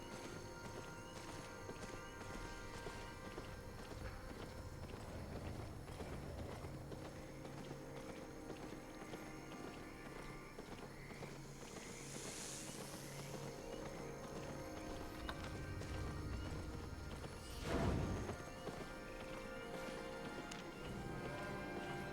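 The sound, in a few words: donkey mount hoofbeats in Albion Online video game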